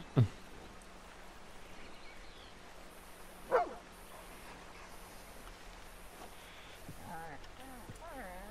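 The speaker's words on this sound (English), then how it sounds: "Dog." A dog in the video game Red Dead Redemption 2 gives two short, sharp barks spaced a few seconds apart over a low background, with faint voice-like sounds toward the end.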